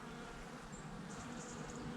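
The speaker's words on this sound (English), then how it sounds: "Not sure if you can hear that buzzing or not. Loads of bees." A steady low buzzing of many bees, faint and continuous, with no voices, outdoors around Kingswood, Chilham.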